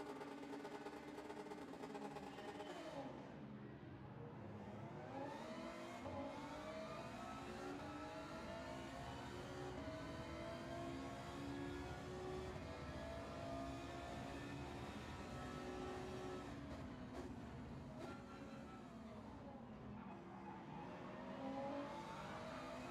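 Race car engines in a GT500 racing video game, including a Lexus RC F, rising and falling through repeated high-pitched accelerating sweeps and gear changes, continuous and moderately loud with no talking.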